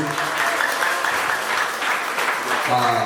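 A church congregation applauding at a worship service, dense sustained clapping from many hands filling the room, with voices mixed in.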